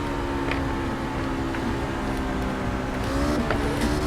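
Racing truck in a racing video game doing burnouts at a New Hampshire track, a loud, continuous engine drone with sustained revving and tire squeal throughout, close and steady, with no speech.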